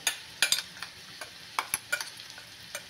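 A spoon stirs green chili, ginger, garlic and coriander paste into frying onions for egg tawa masala, giving sharp irregular scraping clinks against the pan over a soft steady sizzle, close and without talk.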